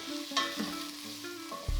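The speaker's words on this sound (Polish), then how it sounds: "Przemieszam." Chili being stirred in a pot, with soft scraping strokes over a quiet, low sizzle.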